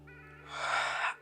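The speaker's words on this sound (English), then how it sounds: "With that, you take a deep breath." A single soft breath is drawn in, starting quiet and swelling into an airy inhale that fades at the end. It sits close and alone over a faint steady hum.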